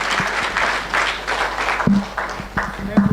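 An audience at a scientific conference claps after a speech, a lively burst of applause that runs the whole time with a voice speaking over it.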